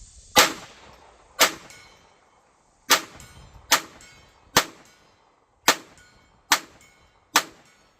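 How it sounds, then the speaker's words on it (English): A Taurus TX22 .22 pistol fires at a 16-inch steel gong: eight sharp, cracking shots, each with a bright metallic ding, at irregular intervals of about a second, with no talking. "Should have been able to hear those dings"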